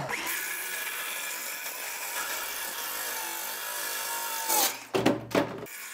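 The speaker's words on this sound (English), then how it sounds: "Now I need to cut a piece of plywood" Power tool whining steadily as it cuts through plywood, loud and continuous, then winding down with a few bumps and clatters at the end.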